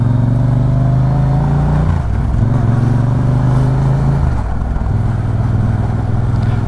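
Motorbike ridden along a rough road toward a fish store: a steady, loud engine drone close by that shifts pitch twice as the rider changes speed, with no talk.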